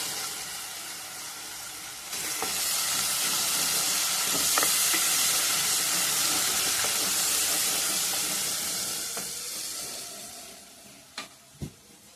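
Ginger garlic paste fries in a hot pan for an Andhra-style mutton dry curry, a loud, steady sizzle and hiss that builds after a couple of seconds, with a few scraping stirs and sharp utensil taps near the end.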